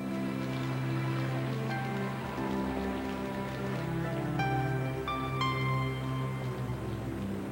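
Steady rain falls at night in a 1988 animated cartoon, a continuous wash of patter over soft background music, with brief chime-like tones near the end.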